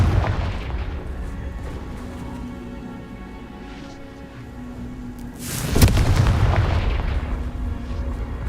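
In Hogwarts Legacy, a Confringo fire spell detonates with a sudden loud blast partway through, its rumble lingering after a low, steady stretch of game ambience and earlier booming combat.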